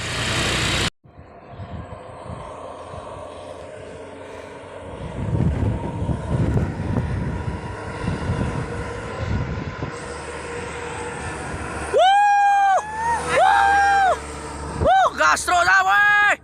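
A truck engine revs hard in loud, rising bursts, with a droning rumble throughout and sharp high-pitched whines near the end, while people shout over it.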